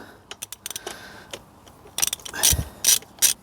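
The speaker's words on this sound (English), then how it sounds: "let's remove the spark plug, see what the state of play is in the cylinder" A ratchet wrench loosens the spark plug on a Honda Express engine that sat unused for twenty years: quick runs of sharp clicking close up, followed by a few louder metallic clanks as the tool is handled.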